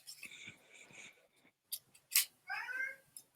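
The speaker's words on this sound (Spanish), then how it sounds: "hasta el gato estaba emocionado" Cat meowing during an online theatre discussion, a few short, fairly close meows and cries following soft murmured speech.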